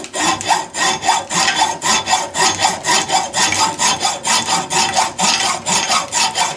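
A coarse hand-saw blade cutting through lead in a basement workshop, loud rhythmic rasping strokes, roughly two per second, steady and close with no talk.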